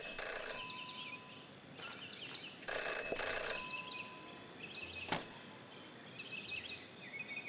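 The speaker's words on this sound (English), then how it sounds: "Jenny had learned never to ignore a ringing phone" Telephone ringing in the video game Jenny LeClue, a bright electronic ring in short bursts over a quiet ambient background, with a sharp knock near the middle.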